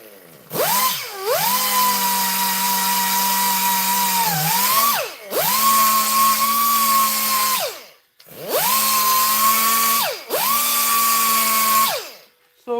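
An angle grinder fitted with a sanding pad works the metal of a custom e-bike hub, whining loudly in several long sustained bursts that each spin up and wind down, separated by brief pauses.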